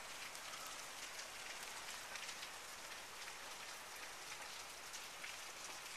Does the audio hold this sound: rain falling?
yes